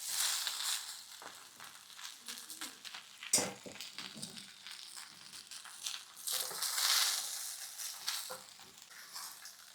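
Vermicelli being stirred into a pan for a semiya masala breakfast gives a steady dry sizzle with scraping and rattling strokes of the spoon, one sharp clatter partway through, and no talk.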